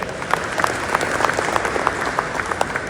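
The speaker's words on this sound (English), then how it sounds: "This deserves an applause." Steady applause from an audience at a talk, many hands clapping densely with a few sharper claps standing out, moderately loud and continuous throughout.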